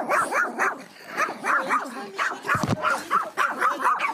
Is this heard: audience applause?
no